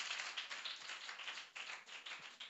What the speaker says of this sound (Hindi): बहुत अच्छा, ताली लगाइए इनके लिए।